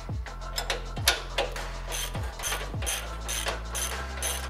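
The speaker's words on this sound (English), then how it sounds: "we're gonna have to go old school and just grab our breaker bar" A breaker bar works a lower control arm bolt on a car, giving a series of ratcheting metallic clicks and creaks in uneven strokes, close and fairly quiet.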